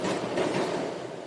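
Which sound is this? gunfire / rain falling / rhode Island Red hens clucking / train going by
train going by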